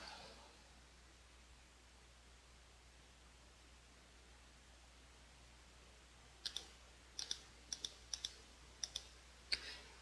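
A computer mouse clicking while tracing a shape with a polygonal lasso selection tool: quiet room tone, then a run of about eight crisp, close clicks at irregular intervals.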